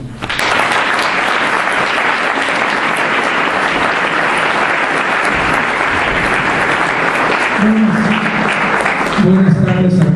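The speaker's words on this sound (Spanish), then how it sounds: "y lo recibimos con un aplauso." A seminary audience applauds a speaker with sustained, dense clapping that fills the room and holds steady nearly to the end, when it thins and a voice begins under it.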